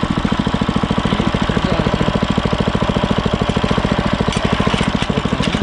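An old Neva walk-behind tractor fitted with a new engine runs steadily nearby, its rapid even putter loud and continuous throughout with no talking.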